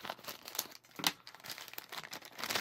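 Plastic and paper packaging of a Wendy's Kids Meal toy, a Charlie and the Chocolate Factory card game, crinkles and rustles as it is cut open, a quiet, close, uneven crackling throughout.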